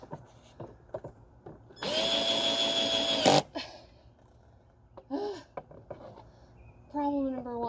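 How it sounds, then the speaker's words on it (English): A power drill set to reverse whirs in one loud burst of about a second and a half, with people talking before and after it. "Head drill on reverse setting."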